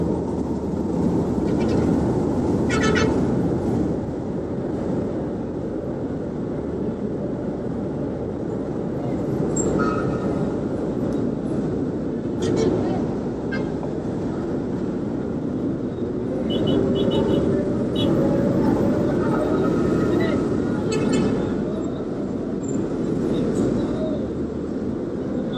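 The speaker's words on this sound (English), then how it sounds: "Oh, it's the last train." A passing train, the last one of the day, heard near a road flyover: a steady, loud broad rumble that holds for the whole stretch with slight swells and a few brief higher clanks, with no voices.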